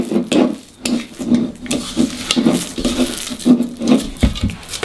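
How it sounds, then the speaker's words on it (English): Keto marzipan dough, made with an egg, kneaded by hand in a bowl, producing a close, soft rhythmic squishing and rubbing repeated about twice a second. "Knead everything until it's good combined."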